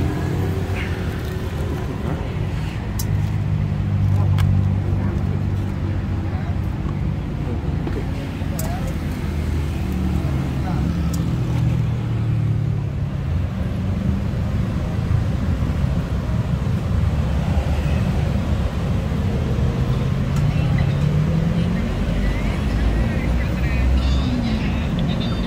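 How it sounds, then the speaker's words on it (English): Early morning traffic moves along a city street in Asok, Bangkok, a continuous close rumble of cars passing with wind noise on the microphone. Some voices can be heard beneath it. "Cars are going."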